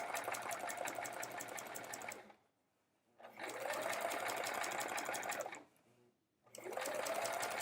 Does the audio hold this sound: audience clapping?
no